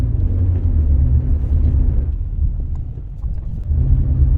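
A Rover 45 driven on twisty roads, heard from inside as a continuous low rumble of engine and road noise that dips briefly midway, then swells again.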